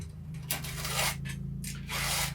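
A hand file sharpening the cutters of a full chisel chainsaw chain, giving rhythmic rasping strokes, about four close, fairly loud scrapes in quick succession over a low steady hum.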